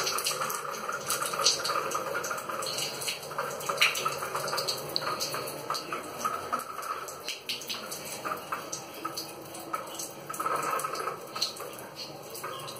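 Tap water running at eight in the evening in an apartment in the Saltivka district of Kharkiv, Ukraine, a steady rushing stream with small splashes and drips, fairly close and continuous.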